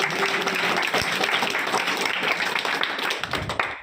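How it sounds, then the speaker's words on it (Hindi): An audience at a school award ceremony claps loudly, a dense burst of applause that keeps up steadily for several seconds before thinning out toward the end. "एक बार जोरदार ताली"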